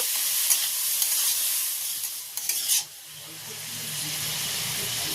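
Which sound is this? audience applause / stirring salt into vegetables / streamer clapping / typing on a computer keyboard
stirring salt into vegetables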